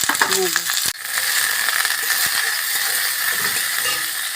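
Chopped onions frying in hot oil in a wok, a dense, steady sizzle that stays loud and close throughout, with a brief clatter of a utensil near the start.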